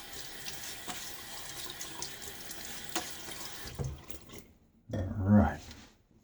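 Water running from a bathroom tap while someone wets their face during a wet shave, a steady splashing flow that rises near the end, with quiet talk earlier.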